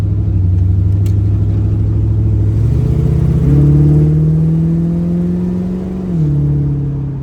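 A carbureted Pontiac Firebird engine idles with a steady low rumble, then revs up twice with rising pitch before settling back, running alone at close range without talk.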